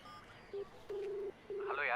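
Three telephone keypad tones beep in sequence as a number is dialed on a phone, one short and two longer steady tones, fairly loud and close, with a brief bit of voice or ringback at the end.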